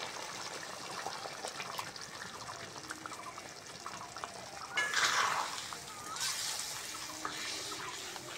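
Water from a bowl is poured into a simmering jackfruit curry, a brief faint splash and gush in a quiet kitchen, followed by a second softer pour.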